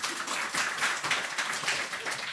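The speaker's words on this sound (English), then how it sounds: "Round of applause." A brief patch of scattered clapping, fairly soft, like a small group applauding for a couple of seconds.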